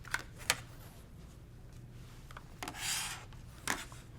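Quilting fabric being trimmed a quarter inch away, faint close rubbing and cutting sounds: a few soft ticks, then a brief rasping stroke and a final scrape in a quiet room.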